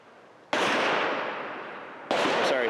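Two loud, sharp pistol shots from a Smith & Wesson M&P9, well spaced, each followed by a long echoing decay.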